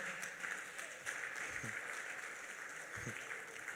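Church congregation clapping in celebration during a service, a fairly faint, steady patter of applause heard at a distance, with brief voices over it.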